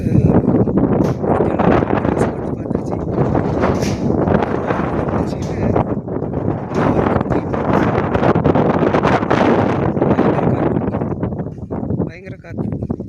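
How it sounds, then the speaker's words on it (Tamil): Strong wind roaring and buffeting close against the microphone, loud and continuous with gusty swells, a voice speaking underneath. "பயங்கர காற்று."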